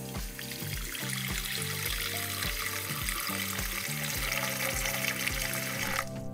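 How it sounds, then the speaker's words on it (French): Water pours steadily into a large bowl of dried cordyceps militaris, a continuous close splashing and trickling stream that holds through the clip over a quiet low-pitched background. "on ajoute de l'eau"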